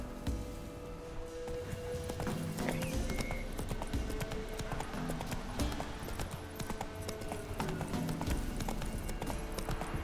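Roach, the horse in The Witcher 3, gallops with fast, steady clip-clop hoofbeats that stay close and loud for the whole stretch, over a low bed of game ambience and no talk.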